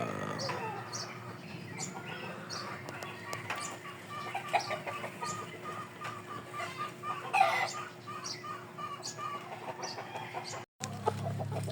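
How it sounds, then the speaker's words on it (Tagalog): Fighting rooster clucking close by in a quiet yard, with scattered short clucks and soft calls over steady background noise. "Panglaban natin sa linggo, si King Cobra"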